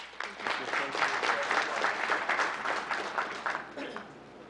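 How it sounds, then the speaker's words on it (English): Audience applause at a town council meeting, a steady wash of clapping from a roomful of people that rises quickly and holds for several seconds, with a few voices mixed in beneath it. "Another big round of applause."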